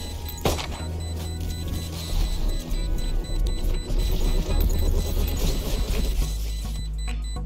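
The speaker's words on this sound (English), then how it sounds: "Sonar bolt at the targets on the wall to reveal hidden enemies" Sonar bolt scan in Valorant, fired at wall targets to reveal hidden enemies: a sharp shot followed by a run of rapid rhythmic pinging pulses over a low game hum, loud and close with no talk.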